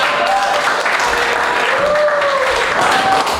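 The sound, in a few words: audience applause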